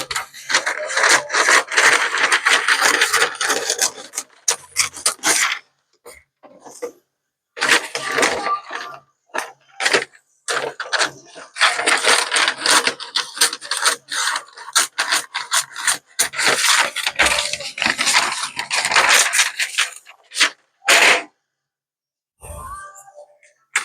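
Sheet metal being trimmed back on a Terraplane trunk lid makes loud, close, rhythmic rasping strokes in long runs broken by brief pauses, with a few sharp knocks near the end.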